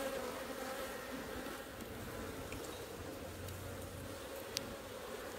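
Honey bees from a small, recently swarmed hive buzz steadily and close up, a continuous droning hum with no voices over it.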